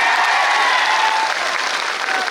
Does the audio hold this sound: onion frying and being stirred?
no